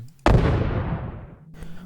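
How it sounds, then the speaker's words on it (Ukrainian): A muffled explosion deep inside a shopping mall, dull and underwater-like, bursts suddenly and loud, then rumbles and decays over about a second before a faint low hum returns. "Почулося, ніби десь у глибині ТЦ щось вибухнуло, приглушено, як з-під води."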